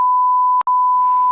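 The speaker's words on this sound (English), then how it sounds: "Just put a beep over it." A steady electronic censor beep covers a spoken name in a podcast conversation, holding one continuous tone with a brief break midway, loud and alone with only faint room noise toward the end.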